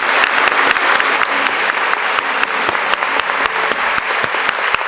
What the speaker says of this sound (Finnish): Eli suuri aplodi meidän mestarille tässä.